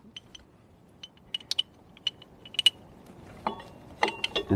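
A Ural motorcycle's brake caliper and bracket are slipped over the rear rotor, giving light metallic clicks and clinks, sparse at first and then a denser cluster of rattles, close and otherwise quiet.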